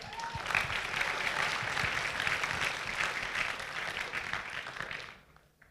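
Audience at a junior diplomatic course event applauding steadily, a dense, even round of clapping at moderate distance that fades out at the end.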